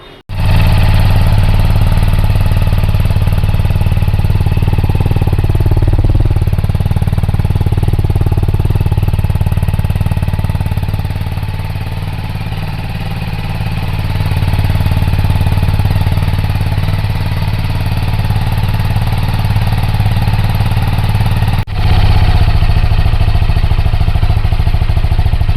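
A TVS 310 / BMW G310 motorcycle fitted with a performance air filter idles close by, a steady, loud low engine drone that holds for the full stretch with only a slight dip midway.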